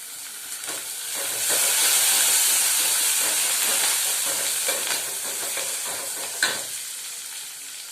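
Onion, green chillies and curry leaves frying in a pan, a strong steamy sizzle that swells early then settles, with a few stirring clinks and one sharp knock late on.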